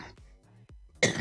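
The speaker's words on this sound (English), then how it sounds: "Told you this cough is still kicking my ass, man." A man coughs several times in quick succession while nursing a lingering cough, the short dry bursts close and fairly loud, ending with a harsher throat-clearing burst.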